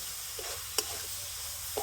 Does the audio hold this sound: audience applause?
no